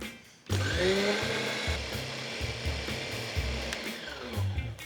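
A blender grinds black sesame seeds into a thick paste, its motor starting abruptly and running steadily with a churning, uneven grind that shifts in pitch as the mixture thickens, loud and close with no talk.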